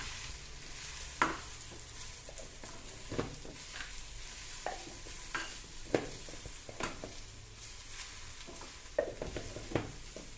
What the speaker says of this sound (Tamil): அடுத்து கரம் மசாலா போட்டுக்குவோம். மிக்ஸ் பண்ணிக்குவோம்.